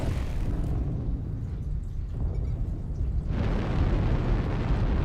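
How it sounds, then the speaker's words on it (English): Airstrike explosions in a mech combat video game, a sustained loud rumbling roar of detonations that swells again near the end, heard alone without talk. "Airstrike online"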